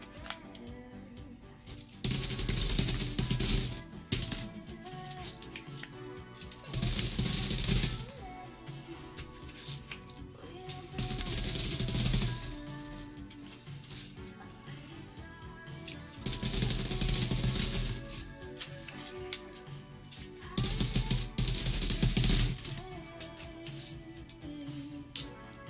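Coins from rolls are sorted and poured by hand, producing five bursts of bright clinking and rattling metal, each lasting a couple of seconds, separated by quieter pauses with faint handling sounds.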